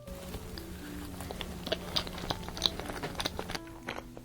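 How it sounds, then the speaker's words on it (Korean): Someone bites into and chews a vanilla chocolate cake bar topped with vanilla cream, with soft crunchy bites and moist chewing heard up close and no talking. "제일 먼저 먹을 거는 바닐라 초코 케이크바입니다."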